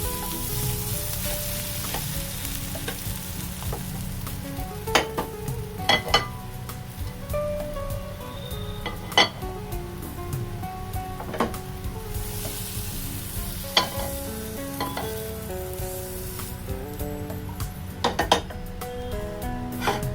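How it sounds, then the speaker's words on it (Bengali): Onion kachori filling sizzles in a frying pan, a steady close frying hiss with a spoon scraping and clinking against the pan at irregular intervals, and no talk. "একটু ভালো করে আমি নাড়াচাড়া করে নেব"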